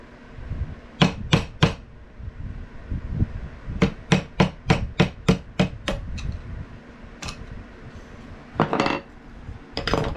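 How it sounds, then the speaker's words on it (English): A small hammer taps metallically on a Cold Steel Laredo Bowie knife in quick bursts, a few at first, then a rapid run of about eight, followed by scattered strikes, close and crisp. "Notice small hammer."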